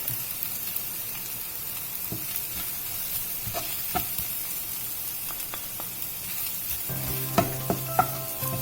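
Spices and onion frying in a pan for soybean and green peas kheema, with soft continuous sizzling and scattered scraping taps of stirring that become more frequent near the end.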